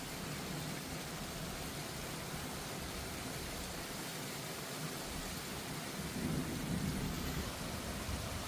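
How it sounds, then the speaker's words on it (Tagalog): Heavy rain pours steadily with a dense hiss, while low thunder rumbles underneath and swells louder toward the end. "Lumapit yung kulog"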